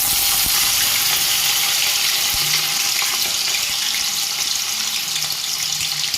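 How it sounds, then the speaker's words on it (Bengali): Vegetables for chow mein, including peas, fry in hot oil with a steady, loud hiss and sizzle throughout. Nobody speaks. "তেলটা গরম হয়ে গেছে, এবার আমি এগুলোকে ছেড়ে নেব"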